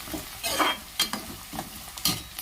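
Onions sauté in a pan for a Tamil fish curry, a bright sizzle punctuated by a few quick clattering stirs, close up and with no speech.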